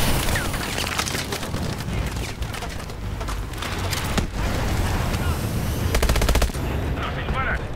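Dense, continuous automatic gunfire and explosions in the futuristic shooter Call of Duty Advanced Warfare, loud and close with rapid overlapping shots and booms throughout.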